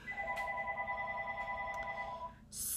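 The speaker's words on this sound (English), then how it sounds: "I know my phone's ringing, but I'm not answering it because I'm doing a video." A mobile phone rings quietly in the background, its steady electronic ringtone tone lasting a couple of seconds before it stops.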